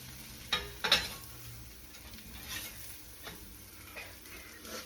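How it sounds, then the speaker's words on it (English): A fried egg sandwich cooks in butter in a pan, with a soft steady sizzle and a couple of sharp clacks as it is flipped near the start. "Get the butter down there, flip."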